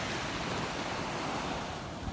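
Sea waves break near the shore in a steady, close wash of surf, a broad hissing roar with some wind noise and no voices.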